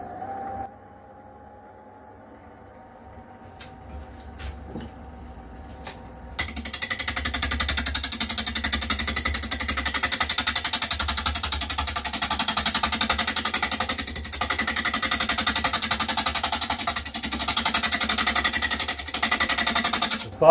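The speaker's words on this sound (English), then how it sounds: "The faster you can do on the lathe, it's much better because you can see the shadow better." A wood lathe turns a wooden lady figure: a quiet low hum at first, then a loud, steady rattling machine drone that fills the rest of the clip, with no talking.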